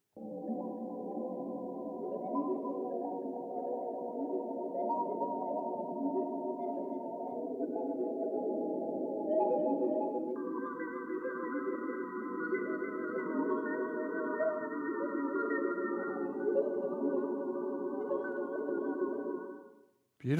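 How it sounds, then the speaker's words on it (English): Atmospheric pad sounds from the OCTANE rompler app on iOS, sustained evolving synth tones that shift chords midway and swell steadily before cutting off, with no talking. "Let's go through some of these atmospheric sounds."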